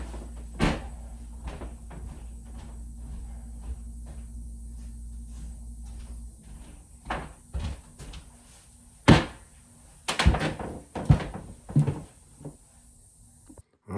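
An interior door being refitted into its frame after fixing a rubbing problem, heard as a series of knocks, bumps and wooden clunks close by, with a few sharper louder impacts toward the end and quiet handling sounds between.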